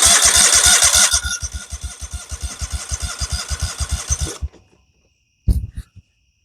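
A Kohler Command engine on a Dixon 5022 zero-turn mower, which smells of gas and is low on power, cranks with a fast, rhythmic chugging for several seconds and winds down without catching; a short sharp clatter follows after a pause.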